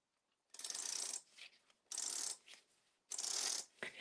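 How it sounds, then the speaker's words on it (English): Three separate strokes of a paper-crafting tape runner laying adhesive onto a card, each a raspy ratcheting rip lasting just under a second, close and distinct with short quiet gaps between. "So I'm just going to use my tape runner."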